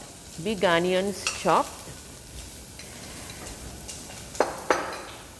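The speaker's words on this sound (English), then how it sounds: "it's sizzling and good smells coming" Chopped big onions sizzle in a tablespoon of oil in a pan with a soft, steady crackle, a brief voice-like tone at the start and a couple of light utensil clicks near the end.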